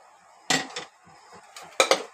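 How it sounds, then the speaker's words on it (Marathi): Peeled, washed potatoes and chickpeas drop into a metal pressure cooker, two pairs of sharp clattering knocks against the pot separated by quiet. "तर आपण आता याला कुकर मध्ये शिजवण्यासाठी टाकून घेणार आहोत।"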